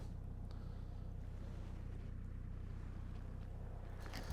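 A tractor pulling a plough across a field runs as a steady, low engine drone that holds evenly throughout, fairly faint and distant, with some wind noise over it.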